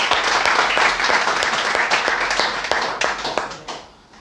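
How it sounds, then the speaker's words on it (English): An audience at an English-language institute in Lahore claps for a speaker, a fairly close, steady round of applause with distinct individual claps that fades out toward the end. "clapping for him"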